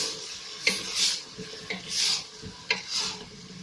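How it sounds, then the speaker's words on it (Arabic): Vegetables frying in a pot for fish soup, being stirred with a utensil: repeated rasping scrapes in slow strokes against a faint sizzle, close and moderately loud, with no talking. "اذا هنا نقلي مليح الخضره تاعي"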